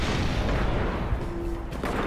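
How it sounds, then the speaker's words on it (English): Grenade explosions in the Destiny beta, a loud, rumbling, continuous barrage of booms close by. "I'm getting a little crazy with these fucking grenades on us"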